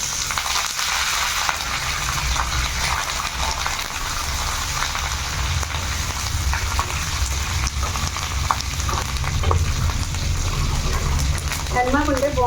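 Tempering spices sizzle and crackle in hot oil in a pan, a steady dense frying hiss with scattered pops running throughout, close and fairly loud.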